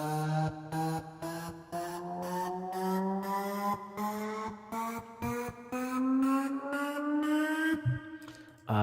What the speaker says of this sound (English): I'll just play one of these risers.